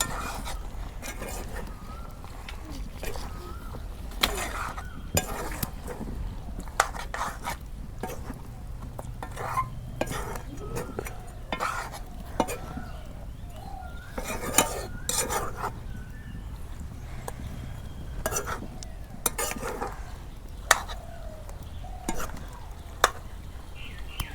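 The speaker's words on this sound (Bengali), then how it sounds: "এখন ভালো করে নাড়াচাড়া করে দিই।" Beef curry with taro stolons being stirred in a pot after adding coriander, cumin and garam masala, with steady clinks and scrapes of a spoon against the metal over a soft background sizzle, close and moderately loud.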